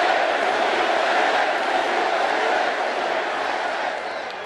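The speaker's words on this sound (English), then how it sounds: "I thought you had it won, and then I heard this cheer" A large crowd at a political rally cheering and roaring loudly and continuously, a dense wall of shouting voices that holds steady and only eases slightly at the end.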